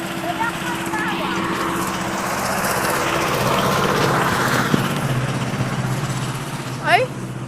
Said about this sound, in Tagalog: May tractor kasing dadaan eh.